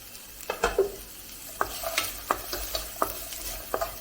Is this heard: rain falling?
no